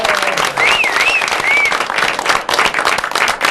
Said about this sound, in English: Can we have a round of applause for Leandra Ramm?